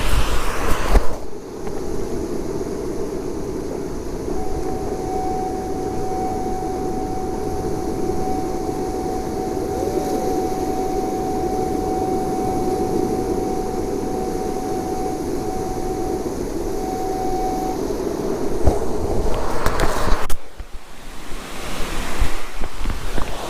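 Metal detector threshold tone heard through headphones on a saltwater beach, a thin, faint, perfectly steady hum holding for over ten seconds beneath loud surf and wind, followed by some handling noise.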